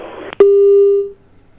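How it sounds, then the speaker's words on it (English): A single loud steady beep, about three-quarters of a second long, sounds on a dropped phone line during a TV news call and then cuts off into near silence. "We seem to have lost the phone line"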